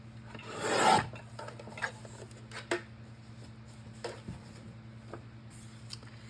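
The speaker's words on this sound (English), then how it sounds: "So I'm gonna trim this down to about 3 3/4." Paper is trimmed to size for a handmade Stampin' Up St. Nick paper journal: one loud rasping cut near the start, then faint scattered rustles and taps in a quiet room.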